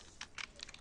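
Typing on a computer keyboard, a few quiet, quick key clicks in a short irregular burst, close and alone without talk.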